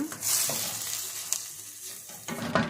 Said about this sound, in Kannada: ಟೊಮೆಟೊ ಇದನ್ನೆಲ್ಲ ಹಾಕಿ ಚೆನ್ನಾಗಿ ಒಂದು ಸ್ವಲ್ಪ ಹೊತ್ತು ಹಿಂಗೆ ಫ್ರೈ ಮಾಡೋಣ